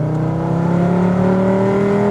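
Volkswagen Golf VR5 engine revving from inside the moving car, a loud, steady five-cylinder drone whose harmonics climb smoothly in pitch as it accelerates.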